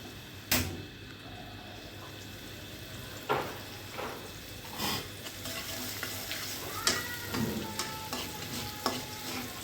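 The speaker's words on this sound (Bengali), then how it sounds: "কড়াইয়ে আবার তেল দিয়ে সেখানে পেঁয়াজ কুচি দিয়ে পেঁয়াজটাকে ভালোভাবে ভেজে" Chopped onions fry and get stirred in hot oil in a wok, a steady sizzle broken by several sharp scraping stir strokes, close and moderately loud, with no talking.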